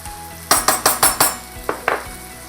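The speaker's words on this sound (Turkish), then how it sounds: "Hepsini birlikte güzelce karıştıralım" A spoon clatters against a pan while stirring chopped peppers, onion, garlic and tomato paste, giving five quick scraping knocks followed by two softer ones, close and clear with no talking.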